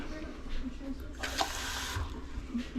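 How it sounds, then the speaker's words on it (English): A brief splash of water poured into a pan, a short bright gush over a murmuring background with faint voices. "I'm gonna add a little bit of water to this."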